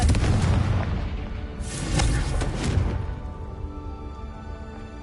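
A Confringo blasting spell goes off in Hogwarts Legacy as a loud, booming explosion with a burst of crackling debris that rolls away and fades into a lingering rumble.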